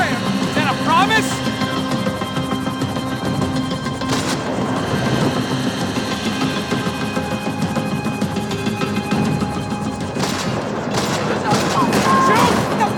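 Gunfire in Max Payne 3, with sustained rattling bursts and sharp shots throughout, set amid a noisy action scene with a helicopter-like drone and shouted voices mixed in.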